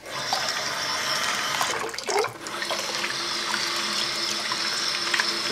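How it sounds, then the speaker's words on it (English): Running tap water rinsing a vintage troll doll's hair, a steady close rush of water with a brief disturbance midway as the hair is moved through the stream, no voices. "Now I'm just going to rinse her out."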